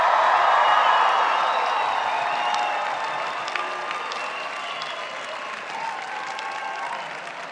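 Sustained applause and scattered cheers from a commencement audience at a university ceremony, loud at first and then slowly tapering off with a few sharp claps and whoops standing out.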